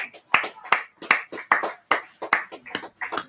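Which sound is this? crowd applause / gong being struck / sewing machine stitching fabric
crowd applause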